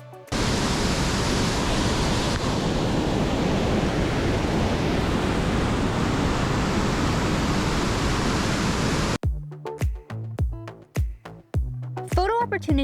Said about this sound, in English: soon the sound of rushing water echoed everywhere throughout the gorge